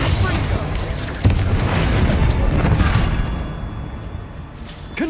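A Bombarda blast spell from Hogwarts Legacy erupts as a loud, close boom, one sharp burst near the start over a dense rumbling wash of game sound, with a voice speaking faintly beneath.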